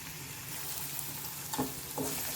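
Garlic, ginger, green chilli and onion fry in hot oil for egg and vegetable momos, with a steady sizzle and a couple of stirring scrapes near the end; nobody speaks.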